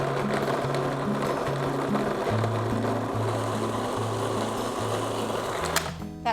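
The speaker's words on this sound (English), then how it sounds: "Then on with the lid and process it just until it's sort of like breadcrumbs." Food processor whizzing firm butter and flour into breadcrumbs, a close, steady motor whir with a pulsing low churn that stops abruptly near the end.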